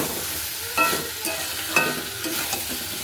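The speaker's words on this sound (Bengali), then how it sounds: "এর সাথে এবার আমি যে পটলটা ভেজে রেখেছিলাম সেটাও আমি এর মধ্যে দিয়ে কষিয়ে নেব সব একসাথে ভালো মতো" Pieces of fried pointed gourd are tossed and stir-fried in a pan of curry, with a continuous sizzle and two sharper spoon scrapes against the metal.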